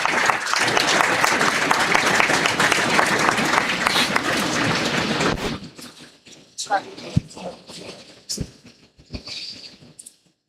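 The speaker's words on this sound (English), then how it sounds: "with a huge round of applause" Audience applause at an international conference felicitation ceremony: a dense, steady round of clapping fills the first half, then thins into a few scattered claps and shuffling noises.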